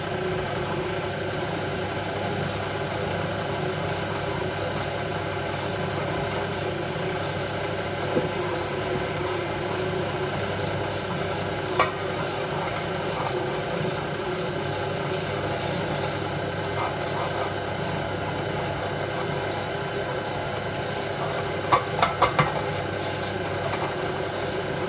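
Electric meat mincer grinding pheasant into mince, a steady loud motor drone with a constant whine and vibration throughout and a few faint clicks near the end.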